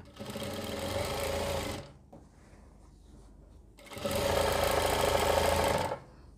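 A sewing machine stitches a collar neck in two loud, steady whirring runs of about two seconds each, separated by a quieter pause with faint handling of the fabric.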